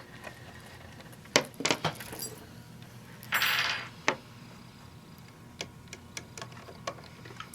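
Small metal clicks and taps as a presser foot is fitted and clamped onto a Bernina domestic sewing machine, a few sharp clinks followed by scattered light ticks, close and fairly quiet.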